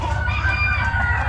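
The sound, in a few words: hen clucking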